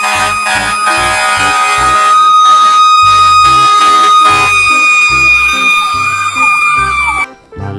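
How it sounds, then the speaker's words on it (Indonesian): A toy fire truck siren blares loud and close, a bright electronic wail holding steady tones for about seven seconds before cutting off abruptly near the end. "Widih, widih, ada mobil pemadam kebakaran."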